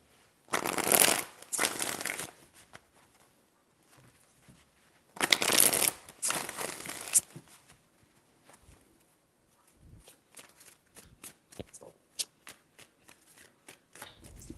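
Tarot cards are shuffled in several brisk bursts of riffling, with quiet pauses and soft taps and handling noises between them.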